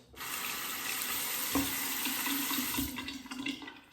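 A razor is rinsed under a running tap during a wet shave, a steady close rush of water splashing into a sink with a few brief knocks, fading slightly at the end.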